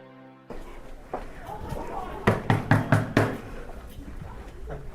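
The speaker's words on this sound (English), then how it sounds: "Knock, knock." A rapid series of about five sharp knocks lands on a school classroom door, close and distinct, with people talking in the room before and around them.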